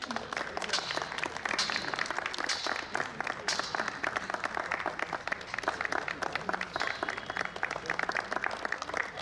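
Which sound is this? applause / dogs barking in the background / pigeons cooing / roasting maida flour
applause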